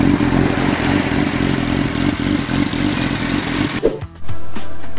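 A Yamaha R1 motorcycle with a dual exhaust idles and runs close by with a loud, steady rumbling throb, briefly dipping before the engine noise resumes strongly.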